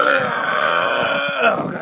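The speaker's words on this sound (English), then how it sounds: "One more burp for the ending" A single long, loud, gravelly human burp rumbles close to the mic for almost two seconds, alone with no talk.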